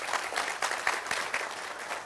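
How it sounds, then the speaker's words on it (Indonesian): An audience at a talk claps in steady, dense applause, a brief continuous burst of many hands with no voices over it. "Jadi tepuk tangan untuk Mas Mutakin."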